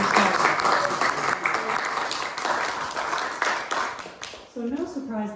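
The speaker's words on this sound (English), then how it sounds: "Round of applause for" An audience at a historical remembrance event gives a round of applause, dense clapping filling most of the moment before it breaks off and a voice starts speaking.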